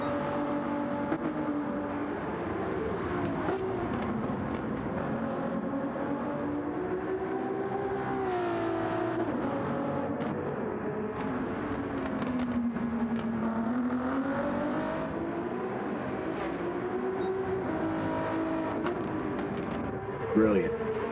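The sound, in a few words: Ferrari GT race car engine at Brands Hatch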